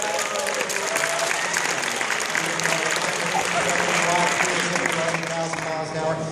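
Audience at a high school hypnotism show applauding the volunteers on stage, a sustained, even wash of clapping lasting several seconds with a voice faintly underneath.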